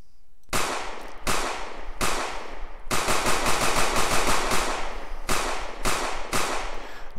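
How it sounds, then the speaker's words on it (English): Rapid bursts of pistol fire in a bank heist video game under development, sharp loud cracks in quick clusters, some shots spaced apart and others fired in fast strings, alone without talk. "So if we have our pistol equipped, then we are going to fire pistol."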